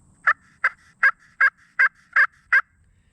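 Seven evenly spaced, crisp yelps from a turkey pot call worked with a striker, each a short rising-falling note, loud and close in a quiet setting.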